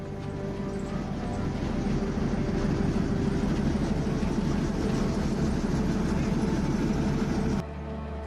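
Passenger train on the Gwalior to Sabalgarh route rolls along with a steady, loud rumble and a dense rattle of wheels on track, continuous for most of the stretch before dropping off abruptly near the end.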